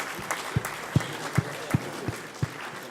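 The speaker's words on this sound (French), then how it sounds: "Vous pouvez les applaudir." Audience applause at a gathering, a moderate patter of clapping with several sharp, distinct claps standing out at a steady rhythm over a soft background.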